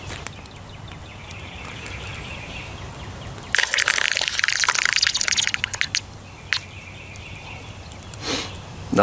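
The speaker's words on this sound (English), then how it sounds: "I'm going to dump the lead into the water to let it harden back up" Hot molten lead melted in a bonfire is dumped into water, giving a sudden loud hissing sizzle that lasts a couple of seconds, followed by scattered faint crackles and a quieter hiss near the end.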